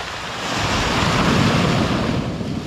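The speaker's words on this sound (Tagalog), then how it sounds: "Gaya ngayon, sobrang lakas na naman ng alon" Heavy ocean surf roars steadily up close, with a continuous rumbling wash of breaking waves and some wind buffeting the microphone.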